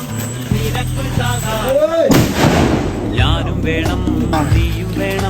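A sharp, loud bang from a firecracker bomb bursts out midway, ringing and echoing, with voices and background noise before and after.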